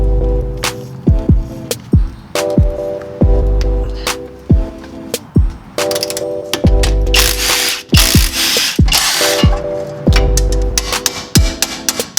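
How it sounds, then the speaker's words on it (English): Ratchet wrench working loose the three bolts on a BMW E28 control arm and sway bar link, with repeated bursts of quick clicking and scraping separated by short pauses, close and loud. "So I'm just going to start unbolting those 3 bolts"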